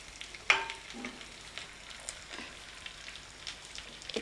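Chicken fry kebab pieces sizzle in a pan as they are turned one by one, a soft hiss under sharp clinks and scrapes of the utensil, with a louder tap near the start.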